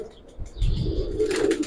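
Giribaz pigeons in a loft give a brief, soft cooing close by, with a faint flutter and a short chirp, while someone speaks over them.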